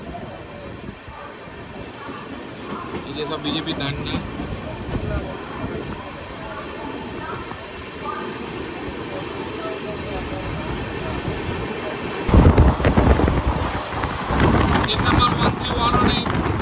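A Brigade Chalo special train from Haldibari rolls past in a steady, loud rumble with rattling carriages, swelling to a harsher roar near the end, while someone talks over it.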